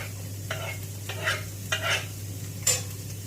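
Green chillies frying in a pan, with soft sizzling and a few scraping stirs in short bursts over a steady low hum, fairly close and moderate in level, no voices.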